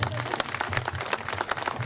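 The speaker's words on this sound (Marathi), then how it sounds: "जरा जोरदार टाळ्या अण्णांसाठी झाला पाहिजे." Short burst of applause from a gathered audience at a marriage lawn inauguration ceremony, dense rapid clapping at close range with a faint crowd murmur.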